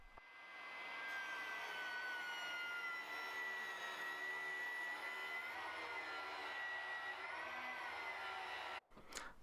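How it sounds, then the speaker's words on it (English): A saw cuts a rebate into the bottom of a wooden moulding for a cork board. The blade gives a steady, high whining buzz throughout, then stops briefly near the end before a short burst resumes. "I can now run the moulding through the saw, cutting a rebate in the bottom"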